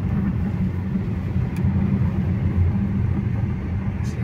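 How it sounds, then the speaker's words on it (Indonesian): Steady broadband road roar fills the cabin of a Changan electric car cruising at 50 km/h with a window open, a constant low rumble and wind hiss without pauses. "Road noise-nya emang masuk ya, cuman karena kacanya dibuka aja sih."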